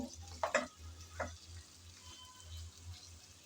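Drumsticks (sajne data) are stir-fried in a pan, giving a soft, quiet sizzle with a few sharp clicks and scrapes from stirring over a low steady hum. Nobody speaks.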